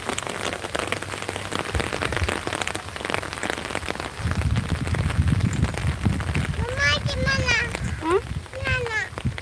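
Rain patters steadily on surfaces at Marina Park in the Andaman Islands, a close, even spatter that thickens midway, while an adult and someone talk over it.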